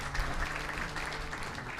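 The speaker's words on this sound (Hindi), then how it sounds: "उनके लिए जोरदार तालियां बजाएं।" A satsang audience gives a short burst of steady clapping to welcome visiting guests. The applause is moderate and continuous for under two seconds.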